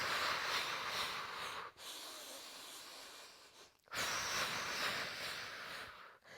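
Deep, steady breathing during a beginner Pilates mat workout: two long, close breaths of rushing air separated by a short pause, with no talking.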